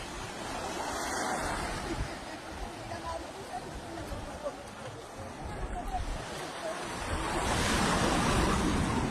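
Surf rolls onto the white sand of Kasapsapan Beach in Kasiguran, Aurora, a steady wash of waves with gusts of wind buffeting the microphone, swelling louder toward the end.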